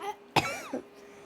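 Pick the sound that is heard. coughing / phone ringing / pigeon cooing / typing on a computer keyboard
coughing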